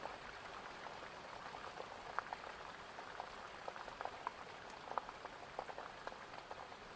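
Rain falls steadily outside a cave, a soft continuous patter with scattered sharper drips and crackling drops, fairly faint and even throughout.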